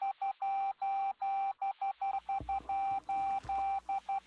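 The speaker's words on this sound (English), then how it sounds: "That was the International Morse Code Signal" A single-pitch International Morse Code signal beeps out short and long tones in a steady keyed rhythm, clear and alone, with a faint low hum and a couple of soft thumps partway through.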